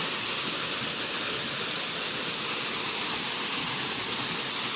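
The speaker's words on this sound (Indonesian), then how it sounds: "Dan air terjun tinggi sekitar 10 meter." A forest waterfall about 10 meters high roars with a steady broadband rushing hiss. The sound is constant and fills the whole scene with no other sounds.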